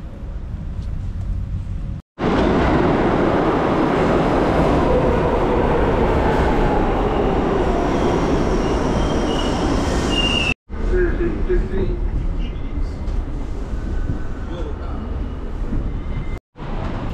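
Loud rumbling and rattling of a New York subway train in motion, with faint squeals from the wheels and a few abrupt cuts in the sound.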